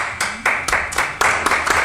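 An audience claps during a talk on gang and social violence, giving a short burst of eight or so sharp, close hand claps in an uneven rhythm with no voices.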